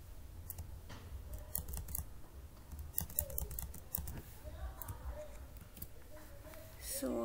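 Typing on a computer keyboard while writing Java code, producing bursts of quick, light key clicks at close range over a steady low background hum, with no talking.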